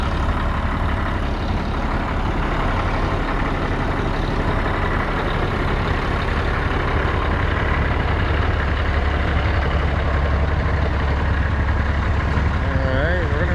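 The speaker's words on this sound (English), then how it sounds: "Somebody's checking that Peterbilt out, letting it run good to see if it leaks antifreeze or anything." Peterbilt truck engine left running at an equipment auction, a continuous low diesel rumble that stays steady throughout, with faint voices in the background.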